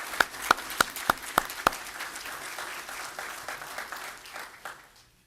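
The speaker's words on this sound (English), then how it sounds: "If we can give her a round of applause." Applause at a city council meeting for a former councilwoman: several sharp, close handclaps at the start, then a softer spread of clapping from the room that fades away toward the end.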